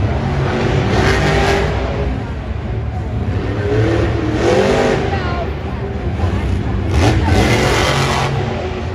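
The Kraken monster truck's engine roars loud and near during a freestyle run at an Anaheim Monster Jam stadium event, surging and revving in repeated swells over crowd noise, with an announcer talking excitedly over it.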